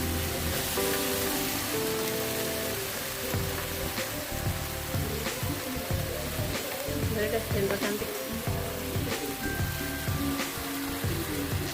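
Fatty beef for Korean barbecue sizzling in a dry pan as its own fat renders, a continuous crackling hiss with scattered pops and spits, close up, running steadily throughout.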